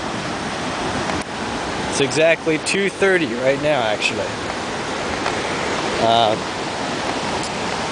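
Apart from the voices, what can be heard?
river flowing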